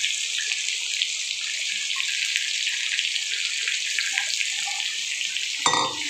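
Onion frying in hot oil with cardamom and cinnamon for a chicken curry, a steady bright sizzle throughout that ends in a brief clatter near the close.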